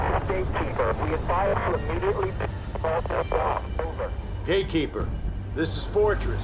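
A garbled radio transmission in Battlefield 4 crackles with static and fragmented voice, with dropouts and distorted chirps toward the end as the signal breaks up.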